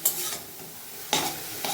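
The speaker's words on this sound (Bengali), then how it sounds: "এই যে বানাচ্ছি একটু ভাজা ভাজা" Pumpkin greens fry in mustard oil in a pan, with a continuous soft sizzle broken by a few sharp scraping stirs of the utensil at the start, middle and end.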